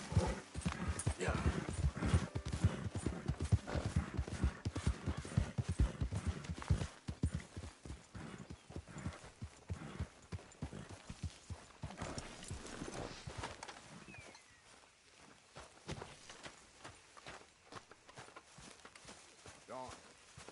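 Horse hooves clip-clop steadily in the Red Dead Redemption 2 game, a brisk rhythmic walk-to-trot that softens toward the end, with someone talking over it at times.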